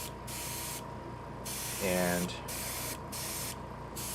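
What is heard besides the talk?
spraying paint on a scale model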